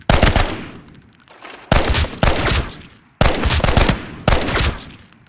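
Close, loud bursts of automatic fire from a new gun in Arena Breakout Infinite, with five sharp rapid volleys separated by short pauses and each burst trailing off into echo.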